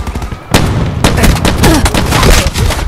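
Shotgun blasts and gunfire in the first-person shooter Call of Duty Black Ops 4, team deathmatch: loud, dense bursts of shots arriving in clusters with sharp attacks, beginning about half a second in and continuing steadily.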